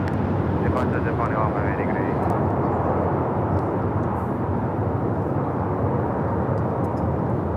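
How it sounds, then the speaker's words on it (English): Airbus A350-1000 jet taking off from Los Angeles LAX for Tokyo Haneda, a loud, steady broadband engine roar filling the whole stretch without letup. "Airlines Flight 15 taking off to Tokyo Haneda on the A350 1000."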